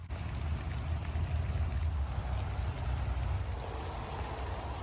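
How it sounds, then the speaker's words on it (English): Steady rain falls outdoors at a homeless camp in Lakewood Ranch, Florida, a dense, continuous wash of patter and low rumble that holds close and fairly loud throughout, with no voices. "We're out here getting rained on for y'all."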